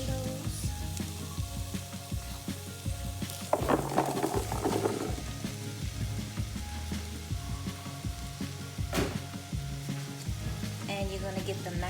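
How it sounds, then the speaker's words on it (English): Sweet potatoes sizzle steadily in a pot with a fragrant ginger mixture for a vegan coconut stew, a continuous frying hiss with a few stirring scrapes and clatters, close and moderately loud. "Now we're going to add the sweet potatoes."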